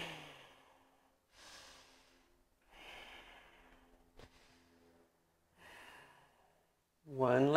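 Slow yoga breathing during an arm-balance practice, quiet nasal inhales and exhales repeated several times with pauses between, close and soft, ending in a brief voiced sound.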